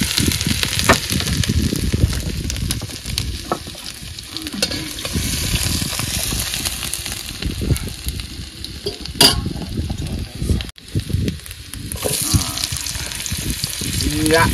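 Chopped ginger sizzles in a pan with crab, prawns and fish. A loud, continuous frying crackle runs throughout, with occasional clinks and scrapes from stirring.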